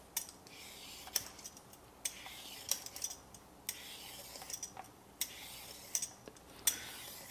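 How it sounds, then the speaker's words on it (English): A carrot is scraped with a vegetable peeler in a kitchen while making tomato meat sauce, giving a series of quiet, crisp strokes at an uneven rhythm, each a short rasp against a hushed background. "So I'm going to just peel it here and then put it through the food processor to shred it"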